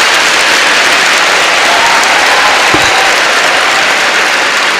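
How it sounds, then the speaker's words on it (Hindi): Loud, sustained applause from a large audience of students at a motivational talk in an institution hall, dense clapping filling the whole stretch without a break. "आप लोगों को खुद के लिए एक बार बहुत ज़ोरदार तालियां बजानी चाहिए खुद के लिए"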